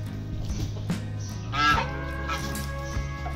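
Several loud, nasal honks from waterfowl ring out close by over a steady background hum, with one especially strong call near the middle.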